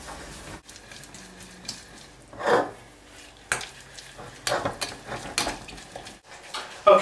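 Sugar being stirred in a pan while making hokey pokey, with scattered scrapes and light clinks of a utensil against the pan and a soft sizzle as it nears the boil, no talking.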